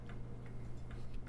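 An 1880 Waterbury Salem parlor clock ticks softly and steadily indoors, its beat slightly uneven, about four faint ticks heard alone.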